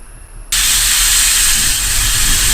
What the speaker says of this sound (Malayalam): അപ്പോൾ കുക്കർ അടച്ചു വെച്ചിട്ട് ഒരു 6 വിസിലുണ്ട് അടുപ്പിച്ചെടുക്കാം.